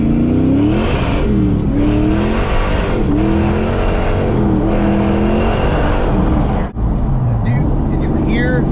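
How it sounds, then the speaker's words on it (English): Ford Mustang Foxbody V8 revving hard through its exhaust during a drive, with repeated rising engine sweeps between gear changes and a brief cut near the end, loud and close. "Did you hear how smooth this car ran?"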